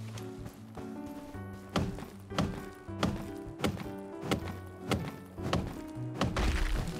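Wooden logs being chopped in the survival game Project Evo: a steady series of hollow, close thunks roughly every half second over a constant background hum.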